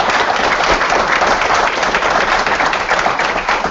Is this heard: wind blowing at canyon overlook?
no